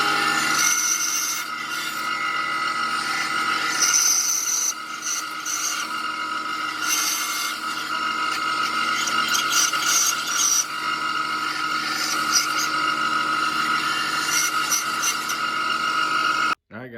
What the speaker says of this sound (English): Now what I'm going to go ahead and do is cut this profile, and I'll do that on the bandsaw.